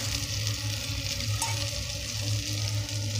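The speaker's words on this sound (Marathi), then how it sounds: "बेसन पीठ आणि दही मिक्स केलेलं मिश्रण आपण येथे लो फ्लेमवरती घालून घेणार आहोत" Gram flour and yogurt mixture for kadhi poured into a pan over a low flame, giving a steady close sizzling hiss with soft stirring under it, and no talk.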